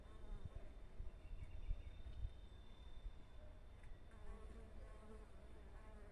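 Mandaçaia stingless bees buzzing in a soft, continuous swarm drone around a hive box, faint and steady, with occasional closer wingbeats passing by.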